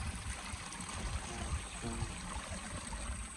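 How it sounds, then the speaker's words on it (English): A small waterfall flowing over sandstone rocks outdoors makes a faint, steady rushing and trickling wash that carries on evenly throughout, with no voices over it. "Oh, here's this waterfall right there."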